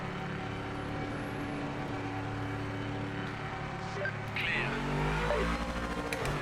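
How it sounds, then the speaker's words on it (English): A GT3 race car in a racing video game holds a steady, droning engine note, then surges louder as it revs near the end, with no talk over it. "This sounds exactly the same as the car in iRacing"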